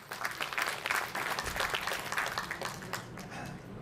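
An audience in a hall at an inauguration ceremony, applauding steadily for several seconds with dense clapping at moderate distance and no speech over it.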